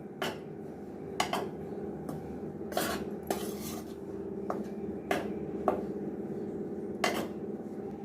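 A spoon or spatula clinks and scrapes repeatedly against a metal pan while a methi laddu mixture roasts, with sharp intermittent metallic taps over a steady low background hum.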